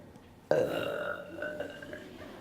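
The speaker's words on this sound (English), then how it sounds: "burping is the answer" A single loud, drawn-out burp erupts abruptly on a school stage during a middle school musical and trails off into quieter sound.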